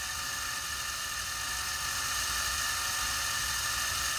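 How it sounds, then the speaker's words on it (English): A small drill whirs steadily and continuously while boring plug wire holes into a 1:25 scale 1967 Plymouth GTX model car engine, a high thin whine held close and even throughout. "I'm just going to drill this."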